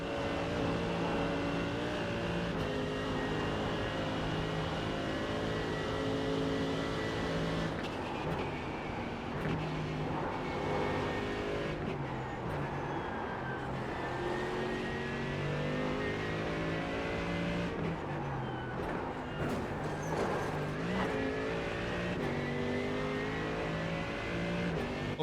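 A Ferrari race car engine in a racing game roars steadily along a straight, a sustained loud drone with shifting pitch and a few gear changes, continuous and without talking.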